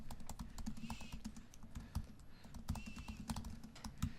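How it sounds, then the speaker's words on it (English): Someone types a log message on a computer keyboard, the keys clicking in a steady, quick run of soft taps close by, with no talking. "So type in a log message."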